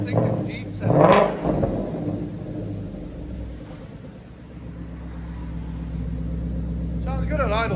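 A Ford Mustang 5.0 GT with an aftermarket exhaust idles with a low, steady burble after a brief blip of the throttle, heard close under people talking.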